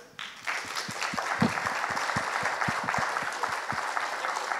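An audience at a rainwater-harvesting conference breaks into steady applause, a dense wash of many hands clapping together at moderate distance, holding fairly even throughout.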